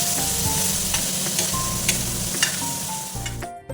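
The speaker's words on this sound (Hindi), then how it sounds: "अब यहाँ पर हमें इसको 1 से 2 मिनट तक घुमाना है तेज़ आंच के ऊपर।" Mutton kaleji (liver) sizzles on a hot tawa over high heat, a dense continuous hiss punctuated by sharp spatula scrapes and taps against the iron, no voices.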